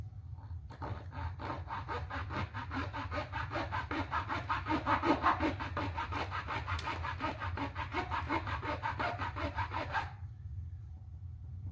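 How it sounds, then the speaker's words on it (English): A small handsaw cuts a notch into a wooden cross piece for a model catapult, a close, steady back-and-forth rasp of evenly paced strokes that runs for about ten seconds, then stops. "I'm just going to start cutting a little notch here"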